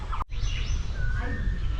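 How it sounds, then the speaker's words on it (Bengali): Birds call near a wheat field, a short high whistled note rising then a longer sustained tone, heard over a low rumbling outdoor background with a brief dropout near the start. "শুনুন কি কি পাখির কল পাওয়া যাচ্ছে।"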